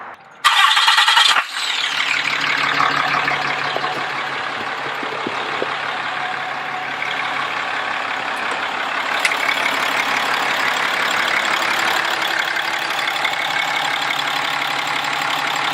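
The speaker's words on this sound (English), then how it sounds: "when they hear this truck, just even when it starts, they know exactly what it is" A RAM 2500 pickup truck engine, stock, cranks and fires up with a loud burst, then settles into a steady, rumbling idle that continues throughout.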